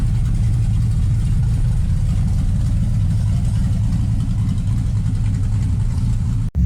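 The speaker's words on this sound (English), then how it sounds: "Just letting the truck idle up a little bit" A Chevrolet S10 pickup with a swapped 5.3 LS V8 and dual exhaust idles in a garage with a deep, steady rumble, loud and close, holding an even low drone throughout before cutting off abruptly.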